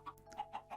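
Chickens in the video game Minecraft cluck in short bursts, four faint calls spaced evenly over under a second, with no talking.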